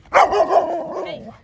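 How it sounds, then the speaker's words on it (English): A dog gives an excited bark that trails into a drawn-out yelping whine, loud and close, with no talk over it. "Sometimes dogs bark when they're excited."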